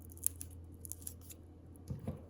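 Scissors trim excess paper from a handmade craft piece, giving a few crisp, close snips with a short cutting rustle at the end, quiet and with no talking.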